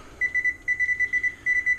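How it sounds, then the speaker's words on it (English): A kitchen timer beeps, heard while pizza is being made: a rapid, evenly spaced series of clear, close electronic beeps in short bursts, with no voices. "Set the timer."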